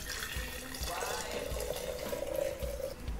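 Sloe gin cocktail pouring steadily into a glass, a continuous close liquid splash and trickle lasting a few seconds, with faint low bumps in the background.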